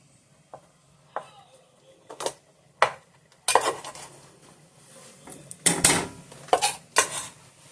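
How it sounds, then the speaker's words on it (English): Longhorn and Gouda cheese are stirred in a pot for au gratin potatoes. A spoon knocks and scrapes against the pot in a handful of sharp clanks and longer scraping strokes, close and fairly loud. "Give that a stir"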